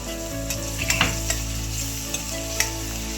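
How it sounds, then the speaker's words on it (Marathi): Finely chopped tomato sizzles with turmeric in a hot pan, a steady frying hiss broken by a few sharp spatula taps and stirring scrapes, close and without speech. "बारीक चिरून घेतलेला टोमॅटो घालून घेणार आहोत"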